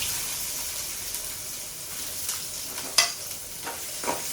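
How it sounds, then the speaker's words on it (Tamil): Mustard seeds, cumin and onion frying in hot oil for a ridge gourd kootu, a faint steady sizzle close by with a few light stirring clicks and scrapes, no voices. "எண்ணெய் காஞ்சிடுதுங்க இப்போ கடுகு போட்டுக்கலாம் கொண்டு கொஞ்சம் ஜீரகம் போட்டுக்கலாம் வெங்காயம் போட்டுக்கலாம்"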